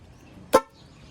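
A single short honk from a motorcycle horn during wiring work on a Japanese motorcycle, sounding once for about a tenth of a second, fairly loud and close against a quiet background.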